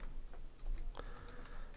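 Computer keyboard keys are pressed for the Alt, T, S shortcut, a few light clicks tapped in quick succession close to the microphone, with no talking.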